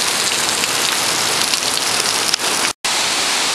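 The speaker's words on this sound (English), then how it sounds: "there's just water dripping off this cliff above us onto the road" Water drips from a cliff above onto a road on Maui's Road to Hana, making a loud, steady, dense patter like heavy rain that cuts out for a brief moment near the end.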